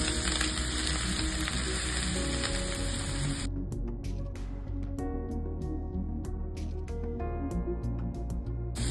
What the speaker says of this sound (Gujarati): ઘી ગરમ થઈ ગયું છે તો એમાં 1 ચમચી જેટલું જીરું એડ કરીશું